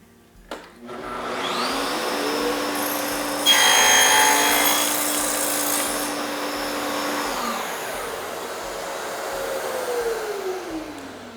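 SOBIT tenon maker cutting a tenon in wood, a steady powered whine that rises in pitch and holds for several seconds under a rough grinding cut, then winds down at the end.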